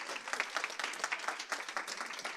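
An audience at a panel event on gender bias in companies gives continuous applause, with dense rapid clapping that holds steady throughout.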